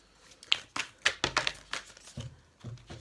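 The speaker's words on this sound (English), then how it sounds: "So let me shuffle these a little bit more." Tarot cards being shuffled by hand, a run of short papery riffles and soft crinkling bursts, close and moderately quiet, with no talking.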